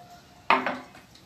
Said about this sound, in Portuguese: E vai mexendo para ele desmanchar essas bolinhas